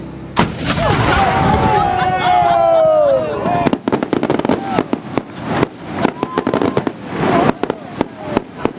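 Historical artillery cannons at a military muster in Southern Ontario, one booming shot followed by a rapid series of sharp cracking reports and pops, with voices calling out over it.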